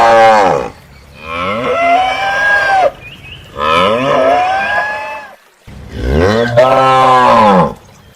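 A cow gives three loud, drawn-out moos, each lasting over a second, close up and separated by short pauses.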